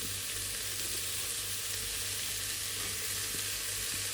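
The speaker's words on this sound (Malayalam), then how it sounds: "അരിഞ്ഞു വെച്ച സവാള എല്ലാം ഇട്ടിട്ട് അതും ഇതുപോലെ അത്യാവശ്യം ഒരുപാട് വഴറ്റണ്ട അത്യാവശ്യം വഴറ്റിയാൽ മതി" Chopped onions sautéing in a pan for a pressure-cooker chicken biryani, giving a steady, soft broadband sizzle with a low hum underneath, no voices.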